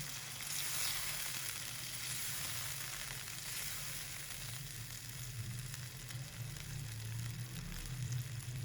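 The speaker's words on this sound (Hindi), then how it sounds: "अब ये आधी प्याली पानी डाल के पकने के लिए रख देंगे" Keema and peas simmering in a pan with half a cup of added water over low heat for a methi recipe, giving a steady soft sizzle and bubbling that holds at an even level throughout, with no talk.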